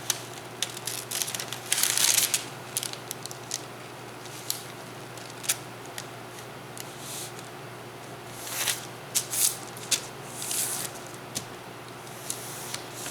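A roll of parchment paper is handled and cut to line a wooden soap mold, making scattered crinkles, rustles and brief snips in a quiet room with no speech.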